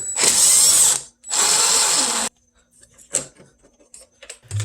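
Power driver spinning out T30 Torx screws from a BMW E90 headlight housing, two loud sustained whirring runs close by, followed by softer clicks and handling noises.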